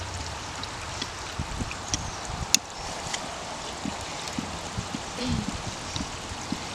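Water drains steadily from a broken pool filter hose, a soft continuous trickle and gurgle close by, with scattered small clanks and one sharp knock.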